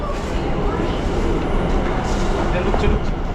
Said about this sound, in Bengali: ট্রেন কিন্তু এখন ঢুকছে